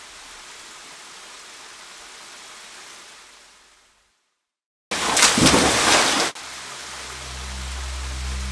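A waterfall torrent crashing down fills the air with a steady broadband roar that fades to silence, then a sudden loud burst of rushing water, followed by the roar returning alongside a low hum.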